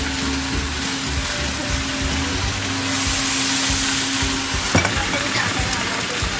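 Cabbage stir-fries in hot oil for a sour-and-spicy dish, giving a steady close sizzle that swells louder midway, with a sharp stir or clatter near the end.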